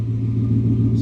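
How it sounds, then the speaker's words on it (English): Gibson dual exhaust on a lifted 2021 Ford F-150 giving a deep, steady rumble, close and loud, with the engine held at a low rev throughout. "Let's hear this Gibson exhaust one time."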